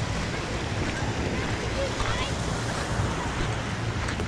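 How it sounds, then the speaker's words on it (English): Surf of a rising high tide rolling in over a sandbar, a steady broadband wash of waves under strong wind buffeting the microphone, continuous and fairly loud throughout. "High tide's just starting to roll in over the bar."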